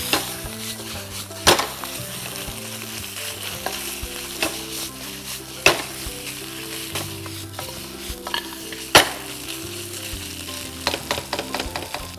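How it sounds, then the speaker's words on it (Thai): Pork bones stir-fried in a pan, a steady sizzle throughout with repeated sharp scrapes and clanks of a utensil against the pan, close and alone without talk. "ผัดพอให้ข้างนอก เขาสุกข้างนอก แต่ข้างในไม่ต้องสุกนะครับ"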